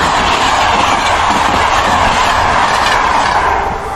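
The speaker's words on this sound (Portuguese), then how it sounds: "E vem aqui o comboio também." A train passes close by with a loud, steady rumble and rushing roar that holds for several seconds.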